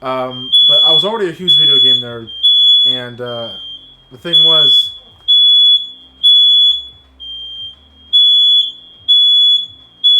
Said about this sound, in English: and that's the fire alarm, which means that someone's bringing something in the kitchen.